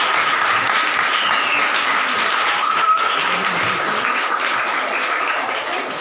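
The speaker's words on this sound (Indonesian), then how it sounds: "minta tepuk tangannya terlebih dahulu untuk pemateri kita" Audience applause at a religious seminar on prayer, steady and continuous at moderate loudness for the whole stretch, fading slightly near the end with no voices over it.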